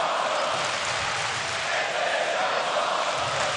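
A capacity crowd at a wrestling arena chants in a steady, loud roar that fills the space, with voices blending into a continuous wash of noise.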